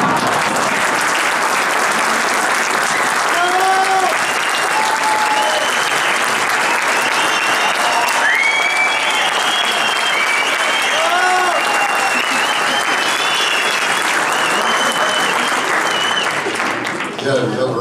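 Long, steady applause from a theatre audience in Chillán, dense and loud throughout, with scattered cheers and voices rising above the clapping before it fades at the end.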